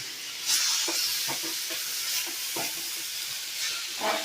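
Baingan bharta mixture roasting in a pan gives off a steady low sizzle and hiss, with soft scraping and stirring taps scattered through it, close and moderately quiet.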